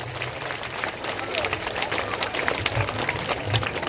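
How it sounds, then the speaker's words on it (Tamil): Audience applause at a school annual day celebration, a steady broadband patter of many hands clapping throughout, fairly close and continuous, with faint voices mixed underneath. "கைகளை தட்டி கரகோஷம் எழுப்பி மாணவர்களை உற்சாகப்படுத்தும்படி உங்களை அன்போடு கேட்டுக்கொள்கிறோம்."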